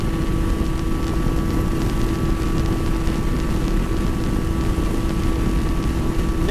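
A 125cc motorcycle engine roars steadily at sustained high revs while riding, loud and close with constant wind rush and a droning tone throughout.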